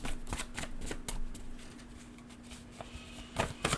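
Tarot cards being shuffled by hand up close: a steady run of soft riffling and papery slaps, quickening and louder toward the end, with a faint steady hum underneath and no one talking.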